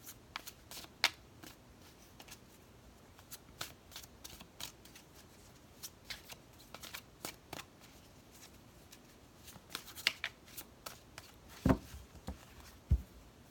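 A deck of tarot cards being shuffled by hand, with soft riffling and brushing bursts of card noise repeating irregularly across a quiet room, fairly faint and close, with no talking.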